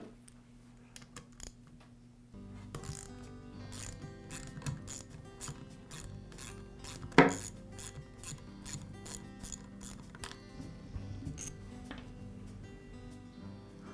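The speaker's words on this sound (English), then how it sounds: "the next step is to remove the head bolts." A ratchet loosening the cylinder head bolts on a Porter Cable air compressor pump, with quick repeated ratcheting clicks in bursts up close and a sharp metallic knock partway through, no talk.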